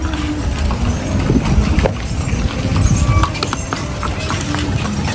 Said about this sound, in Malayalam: ഇതേപോലെയുള്ള കുതിര വണ്ടികളാണ്